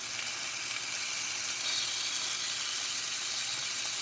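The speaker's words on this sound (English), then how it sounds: "And the sizzle." Steady, even sizzling of pork chops cooking on a hot tray, a continuous bright hiss with no voices.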